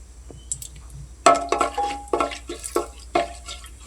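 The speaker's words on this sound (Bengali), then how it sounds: "জিরা আর তেজপাতা দিয়ে এই যে প্রথমে কিন্তু আমি ফোড়ন দিচ্ছি" Cumin seeds and bay leaves tempering in oil in a pressure cooker, a light crackling sizzle with several sharp scraping stirs against the metal pot, close and without talk.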